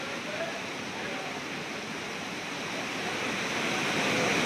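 Raval river floodwater rushes from four opened dam gates in a broad, steady roar of churning water, loud and continuous without a break.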